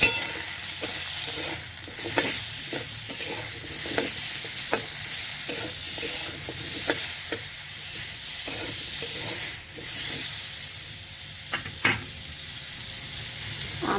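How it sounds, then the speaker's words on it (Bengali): Raw mango pieces with turmeric and salt fry in mustard oil in a kadai, giving a steady sizzle broken by frequent clinks and scrapes of stirring, close and continuous with no voices. "আমটা ভাজা হয়ে গেছে, জল দিয়ে দেবো।"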